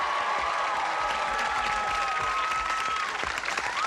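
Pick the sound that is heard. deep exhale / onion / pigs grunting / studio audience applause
studio audience applause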